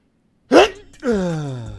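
A single sharp sneeze bursts out up close, a sudden explosive blast followed shortly by a voiced, drawn-out vocal sound as someone reacts.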